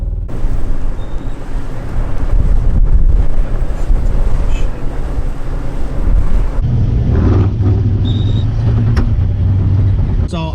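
A Toyota off-roader creeps over a trail obstacle at Cleghorn in crawl control, its engine rumbling loudly and close amid wind buffeting, with a shift in tone partway through and faint clicks and squeaks.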